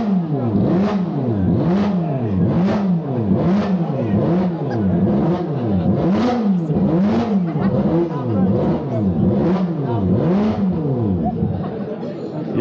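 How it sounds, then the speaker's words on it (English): A Crichton motorcycle at a classic bike show revs over and over in steady rhythmic rises and falls of engine pitch, loud and close, with a crowd murmuring in the background. "Sounds like the Crichton started up."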